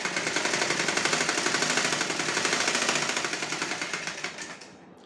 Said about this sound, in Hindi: तीनों कपड़ों पे हमें सिलाई लगा लेनी है